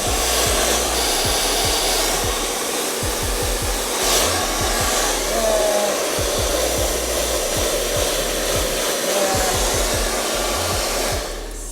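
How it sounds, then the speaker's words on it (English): A hair dryer runs steadily on a low setting throughout, a constant close whooshing hum with faint rustling underneath. "then I'm gonna put my blow dryer on the second setting on low"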